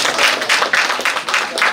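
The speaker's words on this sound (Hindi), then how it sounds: "आप तमाम के रूबरू एक बार जोरदार तालियां बजा दीजिए" An audience claps at an Urdu mushaira poetry recital at MGM University, giving brisk, fairly loud clapping with pulsing waves of hand claps and no talk over it.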